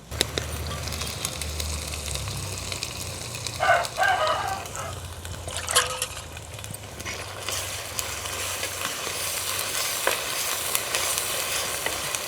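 Ginger paste and cashews fry with onions in oil, making a steady low sizzle with scattered scrapes and stirs; a rooster crows faintly in the background partway through.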